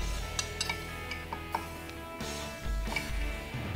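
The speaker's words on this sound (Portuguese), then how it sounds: "E aqui eu vou macerar, então, a anchova e o alho." Irregular knocks and clinks of a pestle crushing anchovy and garlic in a mortar, soft taps scattered over a quiet background with a few heavier thuds near the end.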